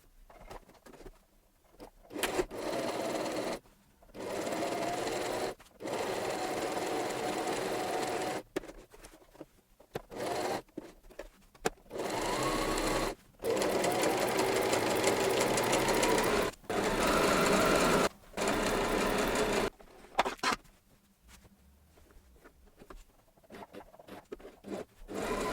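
Home sewing machine hemming a cotton-polyester t-shirt, running in repeated steady bursts of a few seconds each with short pauses between them, close and fairly quiet.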